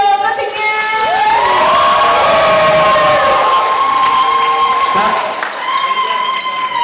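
A stage audience at a science slam show cheers and claps loudly, a sustained crowd roar with shouting voices and whistle-like tones over continuous applause, tapering slightly near the end.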